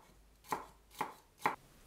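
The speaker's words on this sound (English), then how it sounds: "2 mini peppers into small chunks." A knife chops mini peppers into small chunks on a cutting board, three crisp, evenly spaced strikes close to the mic in an otherwise quiet kitchen.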